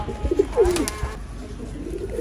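Pet pigeons coo in a backyard loft, a few soft throaty rolling calls close by, with faint background noise between them.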